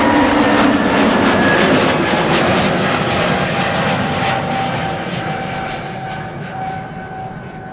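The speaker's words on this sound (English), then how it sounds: "SAS in the background going to Copenhagen. This one is light, up in the air already." An SAS airliner climbs out after takeoff from Amsterdam Schiphol's Polderbaan runway 36L in rain showers. The loud, roaring jet engine noise slowly fades as the aircraft moves away.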